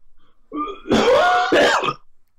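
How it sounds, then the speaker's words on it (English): A short harsh cough or throat clearing, a couple of rough bursts close by, alone without talk. "Coughing."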